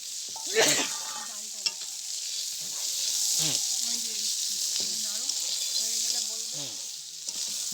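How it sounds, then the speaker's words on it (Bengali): Vegetables sizzle steadily in a hot pan as they are stirred, with scraping stirs breaking through the constant frying hiss and faint voices in the background. "আর এবার মা এর মধ্যে সমস্ত সবজিগুলো দিয়ে দিচ্ছে।"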